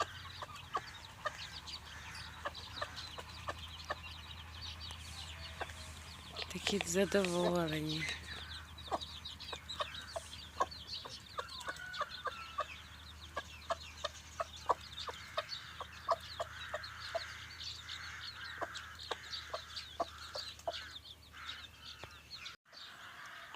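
Many small chickens' chicks, let outside for the first time, chirp constantly in quick, high peeps nearby, with a louder bird call partway through and someone speaking briefly.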